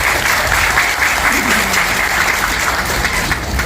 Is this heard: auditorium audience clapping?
yes